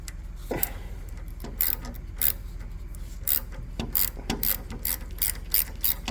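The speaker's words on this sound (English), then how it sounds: "Got a little tight here, so I'm cleaning up some threads. I'm going to run it out." Ratchet wrench turning a thread-cleaning tap on an edge bander, a series of sharp close clicks arriving in short bursts with pauses between strokes.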